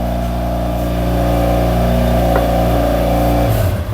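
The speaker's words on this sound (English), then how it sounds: "Yamaha XTZ 750 Super Tenere." A Yamaha XTZ 750 Super Tenere twin-cylinder motorcycle engine idles close by with a steady, busy throb, then briefly revs up near the end.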